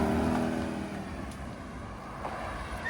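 A light Lotus-style sports car pulls away outside a pub, its engine note rising briefly and then fading into a steady broadband rumble with outdoor background noise.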